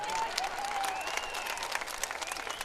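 Women in the audience at an outdoor political rally in Solapur clap steadily, a dense patter of applause heard at a distance and fairly faint, with no talk over it.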